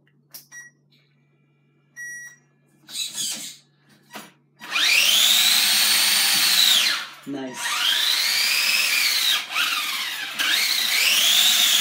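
Battery-powered electric motor in a homemade build, several short clicks and bursts before it spins up into a loud, high whine that drops out briefly and restarts, close up.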